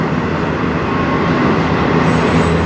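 CN M491 manifest freight train led by locomotives CN 3100 and CN 3310 rolls past on the Strathroy Subdivision: a loud, close, continuous rumble of wheels and wagons with no pause.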